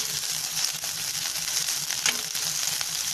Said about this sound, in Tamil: இப்போ புளி சேர்த்துட்டு நல்லா வந்து இதை வதக்கி விட்டுக்கலாம்.